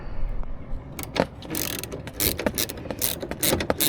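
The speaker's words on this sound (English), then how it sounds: "So this is a clamp, as you can see." A metal clamp being handled on a car's power window actuator, with regulator and motor, giving close clicking, ratcheting and rattling mechanical noises in irregular bursts, without talk.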